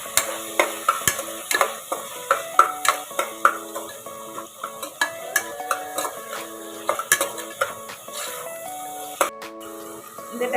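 Chopped tomatoes sizzle gently in a pan while a utensil stirs and scrapes repeatedly, making a steady rhythm of clinks close by.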